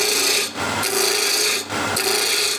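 A spindle roughing gouge cuts wood on a lathe with a steady rasping scrape in two long passes, each ending in a brief pause, close and fairly loud.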